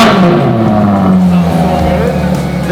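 Engine of a Ferrari Monza SP2, already warm rather than cold, revs and holds a loud, steady note that sags lower over a few seconds, with a voice talking over it.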